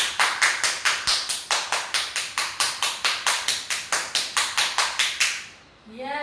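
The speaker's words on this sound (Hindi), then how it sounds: "अभी अपने लिए ताली बजाएं, आपने अभ्यास किया, पूरी मेहनत करी, अपने लिए ब्रिस्क ताली" A group claps briskly in a tight, even rhythm, about four quick claps a second, loud and close for five seconds before stopping abruptly.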